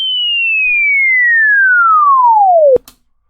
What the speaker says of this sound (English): let's try it out with a sine wave, so it's more soft